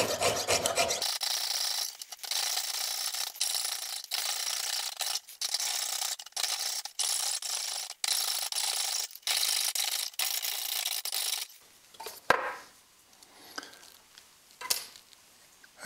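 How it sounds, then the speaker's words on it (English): Rapid strokes of a number 3 jeweler's saw blade, waxed with beeswax, cutting excess metal away from a bezel, in bursts separated by short pauses, then softer scraping at the end. "we're going to begin by sawing the excess out from around our bezel"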